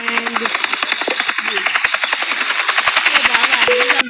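A helicopter in a car sale simulator video game gives a loud, close, steady rhythmic rotor chop over an engine whine, lasting throughout with no talking.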